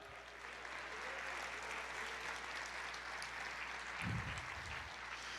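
Worshippers in a church applaud, a soft, continuous spread of clapping heard from a distance, with a low hum throughout and a brief louder burst near the end.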